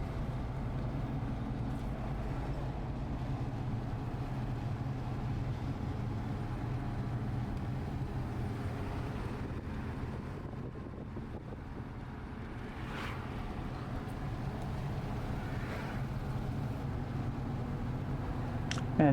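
A car drives along a road near Asheville under the Blue Ridge Parkway, its steady low engine and tyre rumble mixed with faint wind buffeting, continuous and fairly quiet with no talking.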